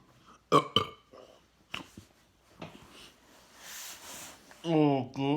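A person lets out a couple of loud, croaky burps during a no-burping challenge, with short breathy noises and rustling between them, all close to the microphone.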